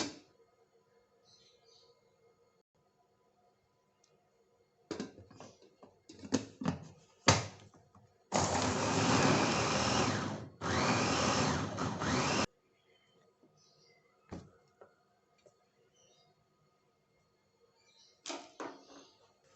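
A small electric chopper whirs loudly for about four seconds, pauses briefly, then runs again, with scattered kitchen clatter before and after.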